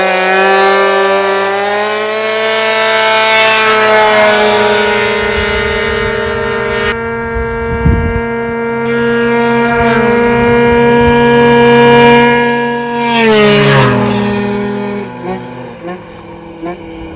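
Two-stroke scooter, a Gilera Runner 180 or Phantom F12, revving hard in a burnout, a loud sustained whine that climbs, dips and rises again with a brief rasp of tyre scrub partway through.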